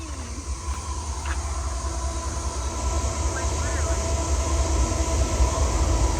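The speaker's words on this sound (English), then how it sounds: "It's a train." A train rolls past close to a nature trail at Boiling Springs, a loud steady rumble that swells and holds, with faint squeals and rattles riding over the continuous rail noise.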